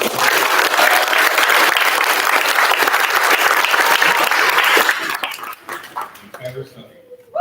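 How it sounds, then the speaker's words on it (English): A crowd applauds loudly and steadily for about five seconds before the clapping thins out, with a dog barking and a voice starting to speak as it fades. "Let's go ahead and give him a round of applause."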